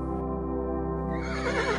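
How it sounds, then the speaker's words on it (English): A horse whinnies in one sustained, tonal call that rises and wavers toward the end, heard alone and at close range against a steady background. "Angel Jibril then took the Prophet by hand and led him to a white-winged horse called Bur'aq."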